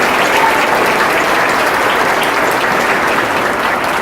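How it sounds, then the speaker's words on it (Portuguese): Steady applause fills a church congregation, dense and sustained throughout at full volume, with no voices breaking through. "Aplauda o Senhor"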